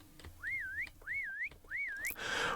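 A whistle in the game Minecraft FTB Stoneblock 3 sounds three times as rising-falling wavering tones, fairly faint and evenly spaced, with a brief burst of noise at the end.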